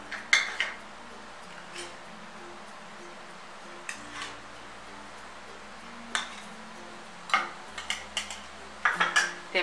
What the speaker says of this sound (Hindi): डालेंगे और अच्छी तरह से मिला लेंगे।